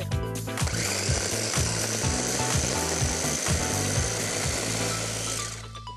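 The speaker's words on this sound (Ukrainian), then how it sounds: "Першим я спробую подрібнити сир." A Delimano chopper chops cheese, its motor buzzing loudly with a rapid, rattling mechanical rhythm of pulses and knocks, running steadily before easing off at the end.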